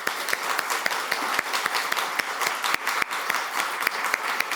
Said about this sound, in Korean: 격려의 박수 좀 보내주세요